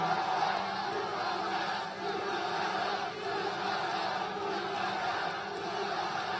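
A large afternoon political rally crowd in Greenville, North Carolina cheers and roars in a sustained, dense wash of voices, steady and loud throughout with no single speaker standing out.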